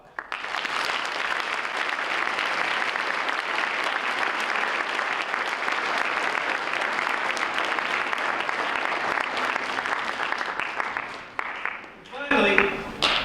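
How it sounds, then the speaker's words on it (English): An audience at a governor's academic excellence award ceremony applauds its teachers in one long, loud, sustained round of clapping that fades near the end before a short final burst. "would you give your teachers a round of applause?"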